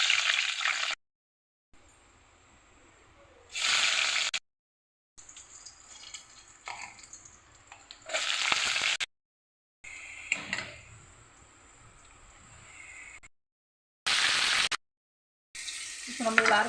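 Cinnamon, cloves and cardamom sizzling in hot oil in a kadai, the first step of a mutton leg paya curry, heard as repeated bursts of frying crackle with quieter stirring between them.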